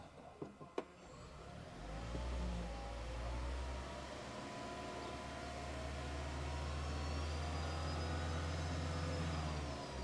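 A Toyota Prius engine starts after a couple of sharp clicks, settling into a steady low running hum, quiet and close.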